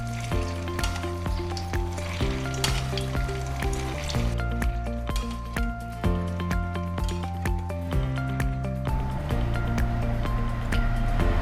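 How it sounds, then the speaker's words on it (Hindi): Ghewar batter fries in ghee over a medium flame with a loud, continuous sizzle and bubbling, steady throughout with faint background music. "अब हम इसको मध्यम आंच पे पकाएंगे और घी को इसको ऊपर से डालेंगे"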